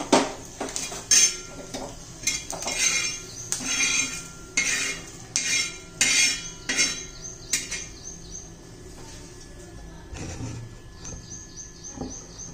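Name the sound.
roasted flaxseed, peanuts, garlic, curry leaves taken out of pan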